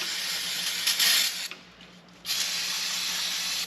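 Brake cleaner sprayed from an aerosol can onto an engine part during a water pump and gasket replacement, heard as two close, loud hissing bursts separated by a brief pause.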